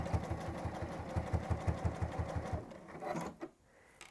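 A sewing machine stitches a line along a fabric bag, a close, steady rapid chatter of needle strokes for about two and a half seconds before slowing and stopping with a few soft clicks.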